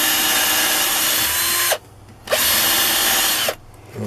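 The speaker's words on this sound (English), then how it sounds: "Just keep pulling your drill out to get all the swarf and whatever out." A power drill bores a hole in a part of a vintage Haenel Model 2 air rifle being refurbished. It whines loudly in two long runs separated by short pauses as it is pulled out to clear swarf, then starts up again briefly.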